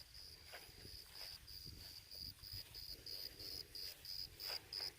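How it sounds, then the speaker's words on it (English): A single cricket chirps loudly in short, evenly spaced bursts close by, over a quiet, faintly rustling background. "There is a loud cricket."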